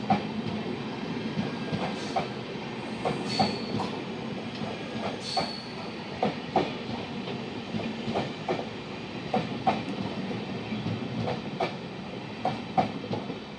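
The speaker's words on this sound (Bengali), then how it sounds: "ফারাক্কা ডাব্লুডিপি দিয়ে টানাচ্ছে" A diesel-hauled express train, a WDP locomotive from Farakka shed pulling the Howrah–Balurghat Express, rumbles past steadily, wheels clacking in an irregular rhythm over a continuous low roar, fairly close and loud throughout.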